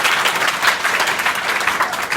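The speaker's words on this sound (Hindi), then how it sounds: "ताली बजाओ अपने लिए।" A classroom of schoolchildren in Kolisa, Azamgarh claps for themselves: a loud, continuous wash of many hands applauding, fairly close and even in level, with no talking over it.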